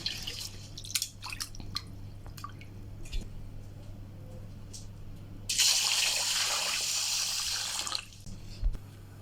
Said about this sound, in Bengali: চালগুলোকে আমি ভালো করে ধুয়ে ঘন্টাখানেক পানি সোকিং করার জন্য রেখে দিলাম